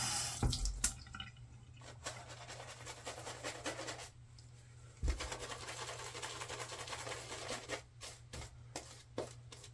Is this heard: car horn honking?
no